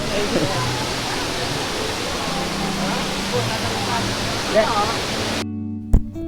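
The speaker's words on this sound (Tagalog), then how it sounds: "nakita ko na ng malapitan ang Aliw Falls ng Luisana, Laguna" Aliw Falls in Luisiana, Laguna pours as a dense, steady roar of falling water, close and continuous until it cuts off near the end, with faint low hum underneath.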